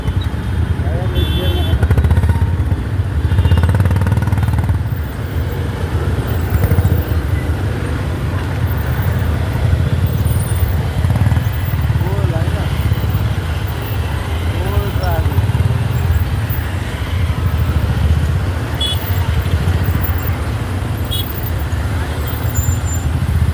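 Motorcycle engine while riding on a hilly road with gear shifts, a loud continuous close drone with wind and road noise, rising and falling in pitch, under ongoing talk.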